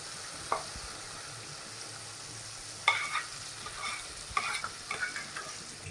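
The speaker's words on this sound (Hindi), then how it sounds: "इसको भूनने में बहुत टाइम लगता है।" A spoon stirs ground soaked lentil paste roasting in ghee, a steady low sizzle with intermittent scraping strokes, close and fairly quiet.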